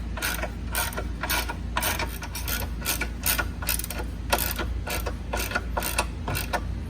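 A ratchet with a 13 mm deep socket tightens the torque arm bolts on a Fiat 500, clicking in steady, rhythmic bursts close by over a low background hum.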